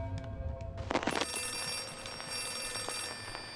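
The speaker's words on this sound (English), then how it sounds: "Is that a phone? Or am I tripping? I hear that ringing." An old telephone bell ringing in Outlast 2, bright metallic trills repeating over a faint background hum, with a sharper burst of noise near the start; moderately loud and alone.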